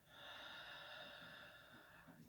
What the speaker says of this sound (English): take it a nice deep breath in through the nose and out through the nose